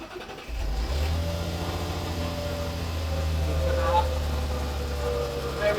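A rare Audi A4 with a 3.2 litre V6, revived from the scrapyard on a jump pack after a flat battery, cranks briefly, fires up and settles into a steady, close idle with a slight swell in revs.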